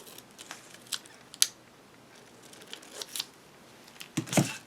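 Scissors cut a paper figure for a junk journal with a few quiet, crisp snips and faint paper rustles spread through a hushed room.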